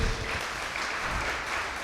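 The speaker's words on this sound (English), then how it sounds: "A round of applause, please, for our judges." Brief, steady round of applause from the audience at a school debate competition, honoring the judges, dense and even throughout.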